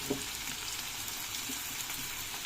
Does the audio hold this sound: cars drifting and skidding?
no